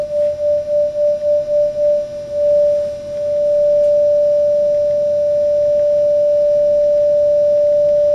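Two close-pitched steady tones, as in piano tuning against a tuning fork, pulse in a fast wobbling beat that slows and nearly stops as they come into unison, sounding alone and fairly loud.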